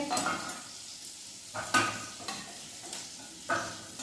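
Chopped potatoes fry in oil with salt and coriander-cumin powder for a dry vegetable dish, a soft background sizzle broken by repeated close scraping and clanking strokes of a stirring spoon against the pan.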